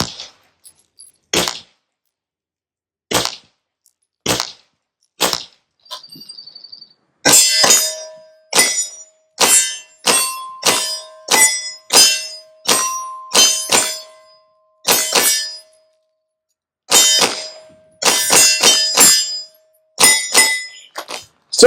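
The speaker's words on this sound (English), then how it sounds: "Now we're going to shoot some of my 147 grain powder puff reloads." A Smith & Wesson M&P 2.0 Compact pistol firing light 147-grain reloads at targets, a series of sharp shots spaced unevenly at first, then faster strings of shots with metallic target pings between them.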